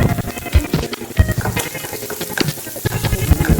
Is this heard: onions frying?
yes